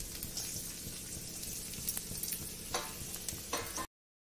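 Moong dal mixture frying in generous oil in a kadhai, a steady close sizzle with soft stirring scrapes throughout, cutting to silence near the end.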